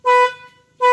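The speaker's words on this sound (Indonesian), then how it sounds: "itu bunyinya pun setelah dikasih massa tadi itu udah makin keluar bunyi klaksonnya" A car horn sounds in two loud, steady blasts, the first about a quarter second long and the second starting just before the end, after a fault that kept it silent with the steering wheel straight was repaired. No one speaks during the honks.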